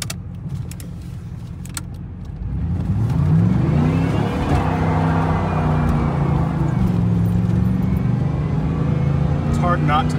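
A Trans Am engine swells from a low idle into a loud, steady roar as the car accelerates, with a voice briefly heard over it.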